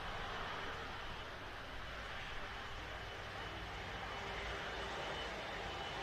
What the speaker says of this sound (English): Virgin Atlantic A330 flight Sierra Victor 127.